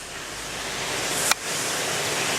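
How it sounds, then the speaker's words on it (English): Art Deco fountain waterfall at a cemetery, a steady, broad rush of falling water heard close and continuous, with one brief sharp click partway through and no voices. "That is an Art Deco waterfall."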